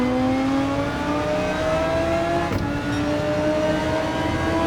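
Engine of a turbocharged GT3 race car in the Gran Turismo 7 racing game, a loud steady drone climbing in pitch as it builds revs, with a brief gear-change dip midway and no talk.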